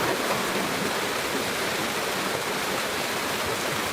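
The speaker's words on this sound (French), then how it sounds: "fermez les yeux, je vous laisse écouter doucement cette cascade" A steady, full rushing roar of a waterfall, constant and dense from start to finish with no other sounds.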